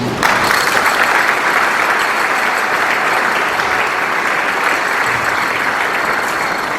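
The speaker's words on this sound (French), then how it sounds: "je voulais passer pour que la communauté paroissiale vous accueille à travers les applaudissements" A parish congregation at Mass in Sainte Perpétue church, Kinsuka, claps in welcome, the applause starting abruptly and then staying loud, dense and even throughout.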